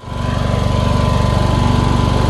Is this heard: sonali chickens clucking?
no